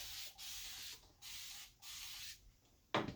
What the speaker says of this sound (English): I'm going to spray the drawer this time.